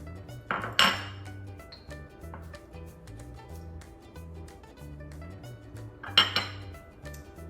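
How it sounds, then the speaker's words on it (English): An egg is mixed into a 16-ounce container of cottage cheese in a bowl, with a few sharp clinks of utensil on dish near the start and near the end and quieter scraping between, no talking. "in the cottage cheese, I'm going to mix up 1 egg"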